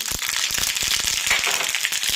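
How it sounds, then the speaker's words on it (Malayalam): Mustard seeds pop in hot sesame oil, a dense close crackle with rapid sharp snaps over a hissing sizzle. "കടുക് പൊട്ടി"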